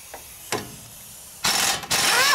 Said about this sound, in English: the easiest way to get these bolts off for the caliper mount is to use an impact wrench